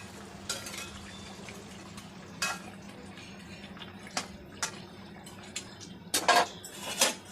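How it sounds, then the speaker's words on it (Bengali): Cut pieces of rohu-style fish go into a simmering cauliflower fish curry in a cooking pot, with scattered spoon scrapes, metal clinks and soft sizzling, close and fairly quiet. "মাছগুলো একটু ঝোলের ভিতর ঢুকিয়ে দিচ্ছি।"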